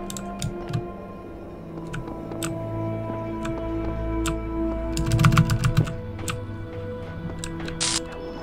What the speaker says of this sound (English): I just have to mash the spacebar?